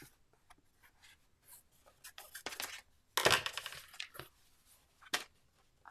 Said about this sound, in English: Cut down some foam for us to use.